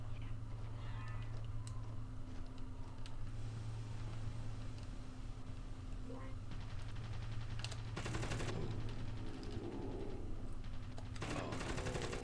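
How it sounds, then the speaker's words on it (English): Rapid machine-gun bursts crackle in Mortal Kombat Mythologies: Sub-Zero over a low ambient drone, with a few heavier volleys toward the end. "Who is shooting?"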